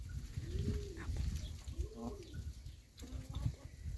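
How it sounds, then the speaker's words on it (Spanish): Doves coo nearby in a few soft, rounded, repeated calls over a gentle outdoor background of rustling air. "Las palomas."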